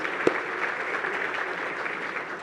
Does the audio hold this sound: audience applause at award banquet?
yes